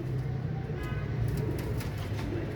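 A breeder pair of pigeons coos steadily, low and continuous, close by with a faint background hum and no talking.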